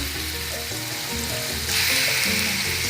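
Chicken pieces for a creamy chicken pastel fry in a hot pan, with a steady sizzle that swells louder midway, close and alone.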